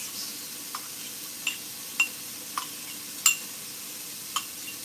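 Onions and garlic fry in a pan while being stirred. A soft, steady sizzle runs underneath, and sharp utensil clinks and scrapes against the pan land at irregular intervals, close and fairly quiet.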